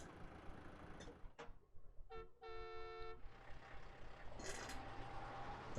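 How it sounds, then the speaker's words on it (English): A truck in the video game Robotics;Notes Elite pulls away with its engine loaded aboard, giving a short horn toot and a brief hiss amid rumbling, low-level engine noise. "Doc gets on the truck loaded with the engine and takes off"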